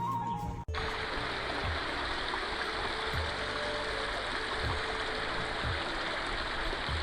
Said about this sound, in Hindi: पानी का शोर, ऊपर से बहता हुआ झरना नीचे की तरफ